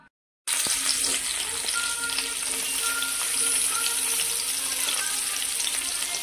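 Chopped onion frying in hot oil in a pan for palak paneer, a steady bright sizzle that starts abruptly and continues close and loud with faint clinks.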